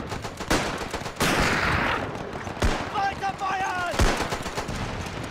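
Rifle and machine-gun fire in a WW1 battle game, with sharp, loud shots cracking out in quick irregular volleys against Russian troops, mixed with distant shouting voices.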